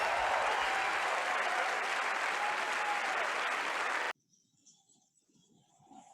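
A TED talk audience claps together in a dense, sustained burst of applause that runs for about four seconds, then cuts off abruptly into near silence.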